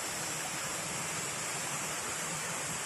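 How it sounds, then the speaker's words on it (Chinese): A mountain stream in a green valley rushes steadily, a dense, even wash of water noise close by with no voices. "哗啦啦的溪谷"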